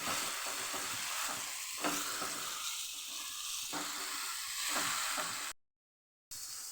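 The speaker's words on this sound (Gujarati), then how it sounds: "લસણ આદુની પેસ્ટ ઉમેરી દઈશું એને પણ સરસ સાતળી લેશું" Garlic and ginger paste sautéing in a pan for Kathiyawadi dal tadka: a steady, close hissing sizzle with faint stirring scrapes, continuous until it drops out abruptly for a moment near the end.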